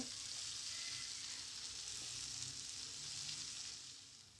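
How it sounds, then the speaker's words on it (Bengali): Carrots and chow mein vegetables frying in a pan make a soft, even hiss of sizzling oil, faint and continuous, easing slightly toward the end with no one talking. "তাই হচ্ছে আমি কিছুক্ষণ ভেজে নিচ্ছি, 3-4 মিনিটের মতো।"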